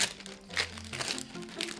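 A small plastic bag being opened before making ice cream, giving a short burst of crinkling and rustling plastic close by, with no talking.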